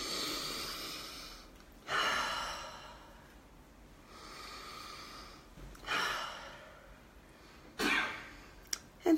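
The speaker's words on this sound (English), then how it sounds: "And I'm going to breathe it in." A person takes several deep breaths, slow airy inhales rising and fading at roughly two-second intervals, close and alone in a quiet room.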